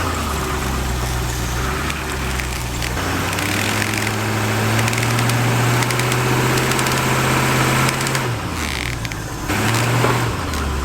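A Land Rover engine runs steadily under load while driving to straighten a bent tube using a tree, with a droning rev that rises and falls, plus occasional creaks and mechanical strain.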